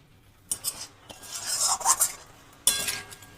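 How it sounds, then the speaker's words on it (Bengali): Vegetables being stirred and mixed in a pan with a hilsa (ilish) fish head for a mixed-vegetable dish with paneer and prawns: a few scraping, clinking strokes of a utensil against the pan, moderately close, with short pauses between. "এটা বেশ ভালো করে মিক্স করতে হবে সবজির সাথে যাতে পুরো ভালোভাবে মিক্স হয়ে যায়"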